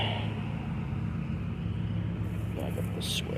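A zero-turn lawn mower engine starts and settles into a low, steady rumbling drone outdoors beside an overgrown yard, running continuously with a few faint higher noises near the end.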